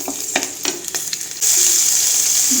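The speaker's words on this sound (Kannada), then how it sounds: "ಒಂದು ಹಸಿಮೆಣಸಿನ್ಕಾಯಿ ಫ್ರೈ ಮಾಡಿ ಮಾಡೋದ್ರಿಂದ ಬೆನಿಫಿಟ್ ಏನಂದರೆ ಅಸಿಡಿಟಿ ಆಗಲ್ಲ" Green chillies frying in a pan, starting with scattered crackling pops and then breaking into a loud, steady sizzle that holds to the end, with no speech.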